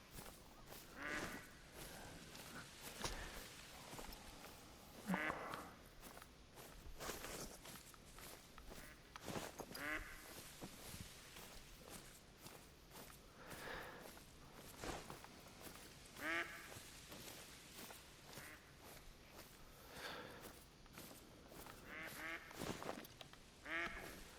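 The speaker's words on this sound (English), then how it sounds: "Don't really care about spooking ducks." Mallard ducks quack repeatedly in theHunter: Call of the Wild, bursts of calls scattered among soft rustling footsteps, fairly faint and spread out, with no talk over them.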